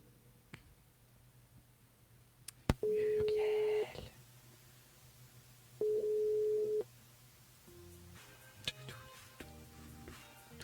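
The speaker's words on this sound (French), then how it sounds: "Allez, on appelle Muriel sur le jeu 1 minute chrono" A telephone line rings out to a radio show caller: two long steady ring tones separated by a pause, with clicks, faint handling noises and a brief tone afterward, heard fairly close.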